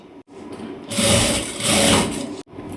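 Sewing machine running in two short bursts while stitching the crossed lining joint on the side piece of a collared blouse, fairly loud and close, with brief pauses between runs and no talking.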